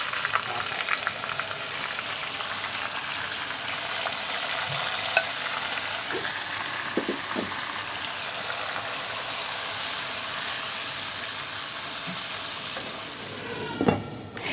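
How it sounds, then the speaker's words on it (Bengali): Marinated beef fries in a pan with a constant broad hiss of sizzling, broken by occasional scrapes and clinks of stirring, the loudest knock near the end. "ওকে, আমরা এখন ম্যারিনেটেড যে বিফটা আছে এটা দিয়ে দিব"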